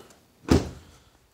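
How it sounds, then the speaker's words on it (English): A single solid thunk as the door of a 2016 Toyota Tundra pickup is shut, close and loud with a short decaying rattle, in an otherwise quiet setting. "Alright, so let's close that door."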